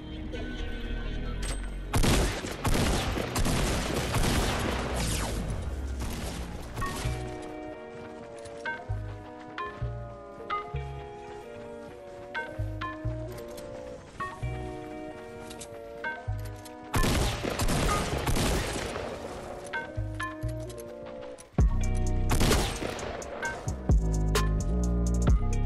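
Gunfire in Fortnite gameplay, with bursts of shots and rapid volleys rising and falling over game music and effects, loud and sustained across the whole stretch.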